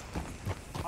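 Hollow hoof clip-clops from a horse in the video game Red Dead Redemption 2 trot unevenly under speech, a few quick beats spread across a brief moment.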